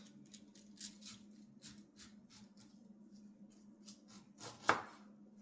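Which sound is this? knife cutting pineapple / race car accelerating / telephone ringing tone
knife cutting pineapple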